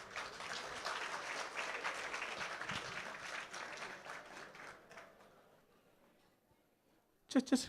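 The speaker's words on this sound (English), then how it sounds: "I think she needs a round of applause as well, please" Gala dinner audience giving a round of applause, dense sustained clapping for about five seconds that fades out into near silence, followed by a couple of sharp close sounds at the end.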